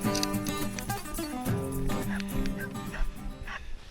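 Several hunting dogs barking and yelping excitedly at a bailed-up boar in Otago, New Zealand, in a frantic, overlapping chorus, close and loud, with whimpering mixed in.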